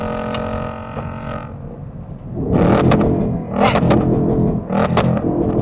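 A new Ford Mustang's engine revs in several loud bursts after a steadier idling drone, with a single word spoken briefly.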